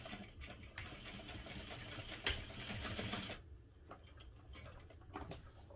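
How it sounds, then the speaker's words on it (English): A sewing machine bastes fabric with a 1/4 inch seam, stitching in a rapid, steady mechanical rattle for about three seconds, then slowing into lighter intermittent clicks, close and alone. "I'm just going to baste this in place using a 1/4 inch seam allowance"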